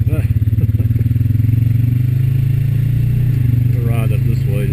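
A Honda Rancher 420 ATV engine runs loud and close with a steady, throbbing low drone and a slight rise in pitch while riding.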